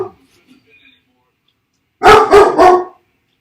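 A dog barks outside three times in quick succession, loud and close after a near-silent pause, with faint voice at the start.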